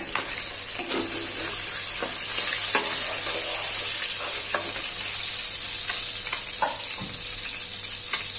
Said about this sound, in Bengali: এবার ফোড়নগুলো দিয়ে দিচ্ছি।